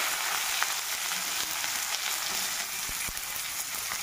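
Chillies frying in hot oil, with a steady bright sizzle and occasional small pops and crackles, close up and continuous with no talking.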